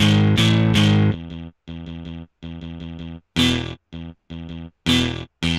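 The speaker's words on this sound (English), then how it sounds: "So this is the crappiest distortion. This is the low end distortion." Chopped synth or guitar notes run through a low-end IK Multimedia tape-machine emulation in FL Studio, sounding chunky and distorted in short rhythmic bursts separated by silent gaps.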